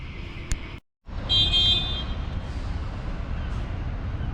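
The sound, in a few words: car horn honking in city street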